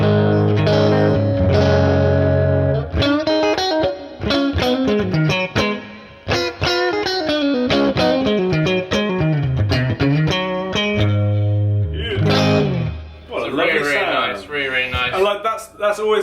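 Amplified electric guitar through a Boss Katana amplifier's clean channel, gain driven up a little, plays a steady run of chords and single notes, ringing out loud and full with a touch of effects and reverb.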